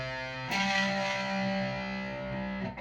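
An electric guitar power chord with distortion rings out after a brief lead-in, sustaining thick and buzzy with a steady tone for about two seconds before it is cut short.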